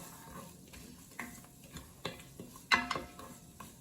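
Chopped onion fries in hot ghee and sesame oil while a spoon stirs it, giving soft scraping strokes and a few sharper clinks against the pan over a faint sizzle.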